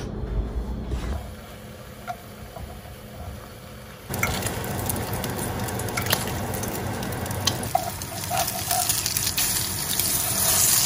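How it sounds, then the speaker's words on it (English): Eggs and bacon frying in a pan, a quiet start giving way to a loud, continuous crackling sizzle with scattered pops and spatters, close by and steady. "I will put some eggs and bacon in the pan."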